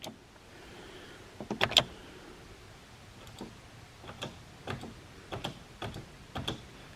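Mechanical clicks and a whirring relay-like action from a Nissan 240SX (S13) pop-up headlight motor triggered by its button, a series of sharp ticks spaced through a quiet background, moderately close.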